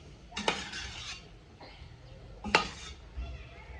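Rice being stirred in a pot while preparing Syrian ouzi, with two sharp clinks of a spoon against the pot and soft scraping and shuffling between them, close and quiet.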